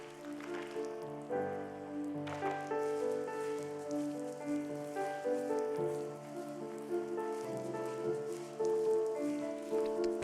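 Rain falls steadily in The First Tree video game, a soft continuous patter carrying on for the whole stretch beneath sustained melodic music, with no voices.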